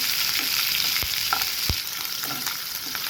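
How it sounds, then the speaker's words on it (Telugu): Onions, green chillies and curry leaves frying in ghee and oil with garam masala for bagara rice, a loud, steady sizzle with a few scrapes of stirring, close and without voices. "ఇవన్నీ కాస్త బ్రౌన్ కలర్ వచ్చే వరకు వేయించుకోవాలండి."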